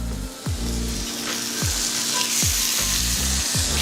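Lamb chops searing in hot oil in a pan, a loud steady sizzle and crackle with a few soft clanks of the chops being moved, no voices.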